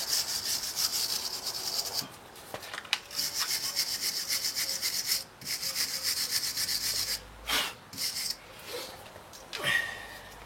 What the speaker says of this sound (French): un coup de brosse métallique sur la tête de la fusée